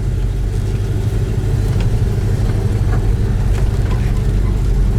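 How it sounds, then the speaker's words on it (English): A 1970 Ford 429 Cobra V8 idles steadily and loudly up close, a deep continuous low rumble with slight rhythmic loping and no talk over it. "This car idles awesome."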